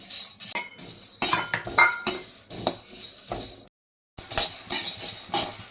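Seeds are dry-roasted in a pan for laddu, a spoon scraping and clinking against the metal in quick irregular strokes, close and busy, with one short silent gap before the stirring resumes.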